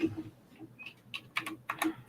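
Typing on a computer keyboard: a short run of quiet, irregular key clicks, close and alone.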